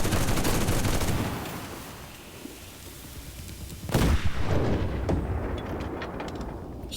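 Tank cannon blasts and rattling machine gun bursts from a Panzer III J in the Enlisted war game, heavy continuous fire fading slightly before a loud cannon shot near the middle, followed by more scattered gunfire.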